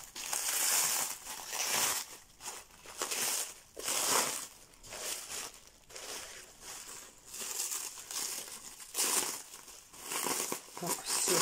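Plastic packaging crinkles and rustles in repeated bursts while a parcel of moulds is unpacked by hand, close up and fairly loud.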